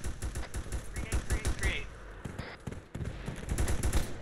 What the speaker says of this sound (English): Shots coming northeast, east.